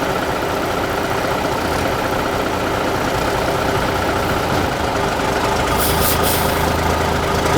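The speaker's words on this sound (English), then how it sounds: "Hear those air brakes." A big former Army truck at a military vehicle museum idles with a loud, steady, rough diesel drone. A short sharp hiss of its air brakes bursts out near the end.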